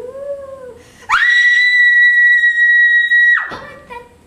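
A ghost pupil's demonstration shriek for a Shriekology lesson: a single loud, sustained high whistling wail that rises sharply, holds steady for over two seconds, then cuts off, with faint voice before and after. It is likely a human voice imitating the sound.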